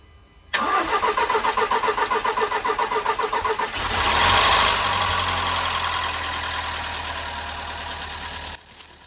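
A rebuilt Volkswagen Polo GTI engine cranks with a fast rhythmic starter whir for about three seconds, then catches and roars loudly before settling into a steady, slightly rattling idle, close and alone.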